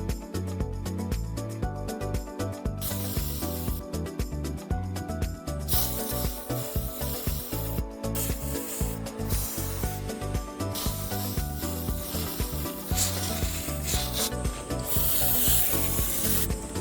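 Fluid Film rust preventative spraying into the body joins of a Suzuki Jimny 4WD, a continuous close hiss with rubbing and scraping textures and no pauses, loud and alone.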